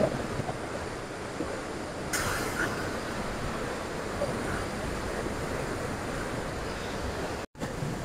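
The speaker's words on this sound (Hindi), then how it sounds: "ये पानी जो उधर से इस नहर की तरफ आ रहा है" Water rushing through the gates of the Upper Chenab Canal, a loud, continuous broadband roar with some wind buffeting the microphone and a brief dropout near the end.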